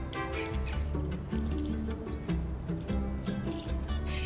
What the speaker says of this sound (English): And some water to help the rice cook.